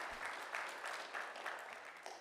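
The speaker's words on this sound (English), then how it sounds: "a round of applause" An audience claps for Dr. Quash at a CUNY BMI conference, a steady, dense wash of many hands sustained throughout with no pause.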